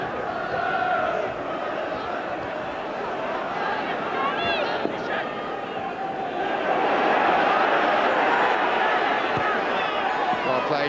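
A 1995 FA Cup fourth-round football crowd at Sunderland against Tottenham Hotspur urges the home side on, a dense roaring wash of chanting and shouting that swells louder near the end and holds steady throughout.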